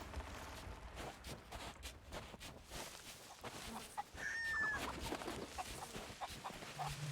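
A rooster crows outdoors on a warm Halloween night, a drawn-out call rising and falling in the middle of the stretch, moderately distant, over steady background noise and scattered clicks.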